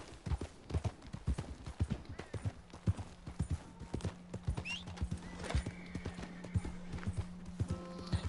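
Horse hooves clip-clop steadily through Red Dead Redemption 2, a brisk rhythm of close, distinct footfalls with a whinny and a sustained tonal note partway through, and faint talk in the background.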